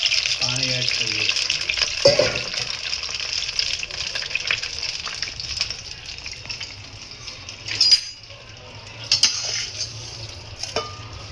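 Water is poured into a hot cooking pan of mustard seeds, asafoetida and curry leaves for a Gujarati khaman dish, giving a steady gushing, splashing flow with a few clinks of the pan near the end.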